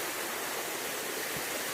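A waterfall spilling off the back of a dam in Glamis, Scotland, with a decent flow, roars as a steady broadband rush of falling water, close and continuous with no voices.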